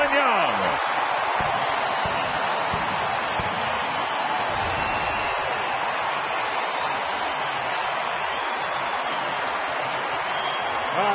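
A sellout ballpark crowd roars and applauds steadily after a home run at a Toronto–Minnesota game, a dense, sustained wash of cheering throughout, with a faint announcer voice underneath.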